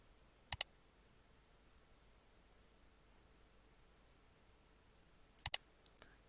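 Two quick pairs of computer mouse clicks while drafting a floor plan in AutoCAD, one pair near the start and one near the end, crisp and close against a quiet, faintly hissing room.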